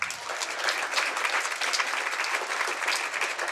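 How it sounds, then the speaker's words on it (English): Audience applause at a graduation and membership appreciation ceremony, a full continuous round of clapping from a sizable crowd, steady and fairly loud with slight swells. "Please give everyone a big round of applause."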